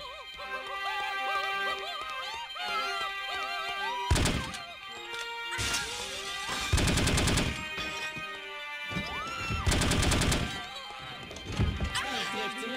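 Gunfire bursts from an enemy firing at the player in the shooter No One Lives Forever, several loud broadband volleys arriving in clusters over steady game music and background sound.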